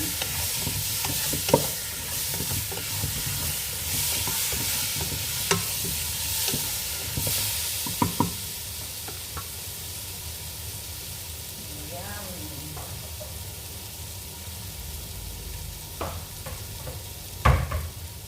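Tomato paste frying in a pan for a Filipino meat, potato and eggplant dish: a steady sizzle with scattered scraping stir strokes and occasional sharper clinks.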